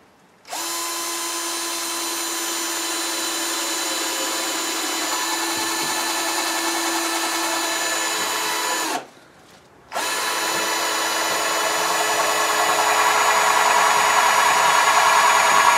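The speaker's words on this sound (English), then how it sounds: "I'm drilling a pilot hole, so I've got my countersink bit in there." Power drill with a countersink bit boring a pilot hole for fastening window parts, a loud continuous whine held for about eight seconds, a one-second pause, then another sustained run at the same pitch.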